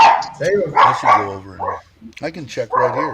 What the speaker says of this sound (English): Sorry about the toy dog next to me here.